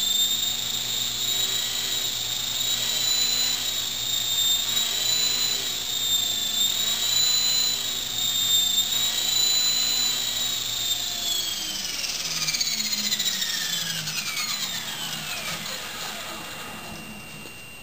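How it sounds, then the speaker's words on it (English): A Honey Bee King V2 RC helicopter's rotor and motor whine steadily and close by, with pitch wavering as the throttle goes up and down, then winding down with a falling whine near the end; a voice talks faintly underneath. "spin it up, and then we'll throttle up and down, see how it goes"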